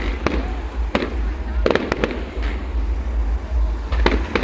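Fireworks bursting at a Rhyl display: a series of sharp, loud bangs, some isolated and some in quick clusters, over a constant rumble of crowd and wind.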